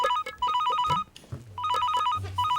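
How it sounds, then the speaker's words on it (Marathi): A landline telephone rings in a home, a bright electronic trilling ring in two rapid bursts with a short pause between, close and clear over faint room noise. "आता एवढ्यात कोणाचा फोन"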